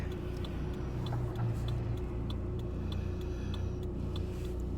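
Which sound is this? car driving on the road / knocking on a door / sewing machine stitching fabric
car driving on the road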